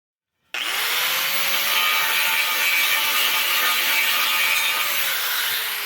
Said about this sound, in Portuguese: Liguei um ventilador para jogar o pó para fora